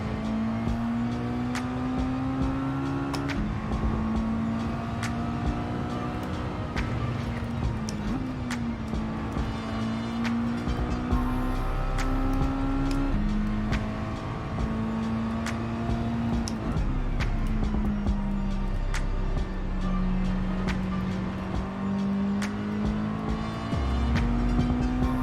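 Super Miata race car in Gran Turismo 7 droning steadily through a long track, engine note rising and falling with gear changes and revs, loud and continuous with occasional tire squeal.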